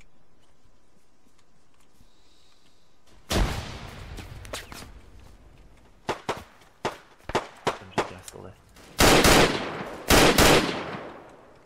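Gunfire in a tactical shooter video game on a peacekeeping mission: a loud close burst, then a string of single sharp shots and two heavy final bursts, with quieter moments between.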